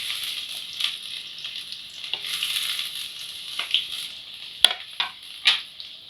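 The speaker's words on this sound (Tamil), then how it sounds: "வெங்காயம் நல்லா கோல்டன் ஃப்ரை ஆகட்டும்" Finely chopped onions fry in hot oil for an egg kurma, a steady close hiss and sizzle punctuated by a few sharp crackles and stirring scrapes, with no voices.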